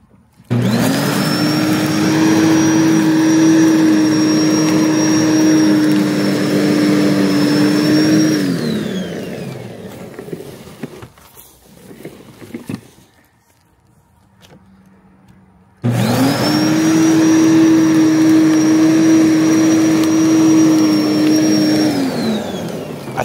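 A lawn mower runs while mowing a yard with a steady, loud engine drone. It cuts out partway through, leaving a stretch of quiet broken by faint noises, then starts up again at full volume.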